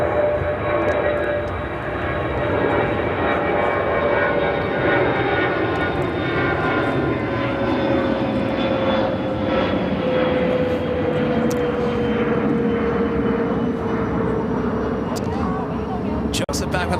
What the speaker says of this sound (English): This is United 906 coming in from Frankfurt on the